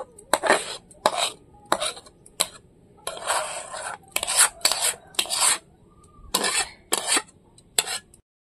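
Cooked palm semolina is scraped and set onto a metal plate, giving repeated short metallic scrapes and clatters in irregular bursts with quiet gaps, close by and without talk.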